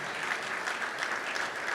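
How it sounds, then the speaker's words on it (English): A crowd at a mayor's men's breakfast applauding the small business committee, steady dense clapping that holds at an even level for the whole short stretch. "Give yourself a round of applause."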